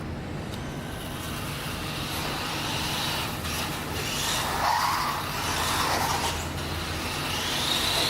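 A JJRC Q39 Highlander four-wheel-drive RC car drifts on a loose surface, its small motor whining steadily while the tires hiss and scrub through a slide. The sound is continuous and moderately loud.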